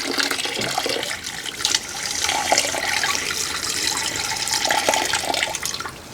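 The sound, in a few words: maple sap gushing as it is poured through a filter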